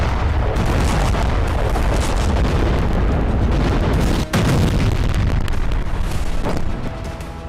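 Ukrainian attacks in Kursk, Russia: a dense, continuous roar of loud blasts and rumbling booms fills the air, with one sharp heavier impact standing out partway through before the din eases at the end.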